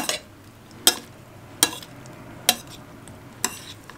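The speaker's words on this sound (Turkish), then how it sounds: "patatesimizle yumurtamızı, patateslerimizi ezmeden yavaş yavaş karıştıralım." Potatoes are gently stirred into eggs in a pan, with four crisp utensil clinks against the pan at a slow, even pace over a soft, quiet background.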